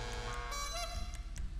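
A car horn in the GTA Online video game, a faint tonal honk with several brief overlapping notes and a few short bursts over a quiet background.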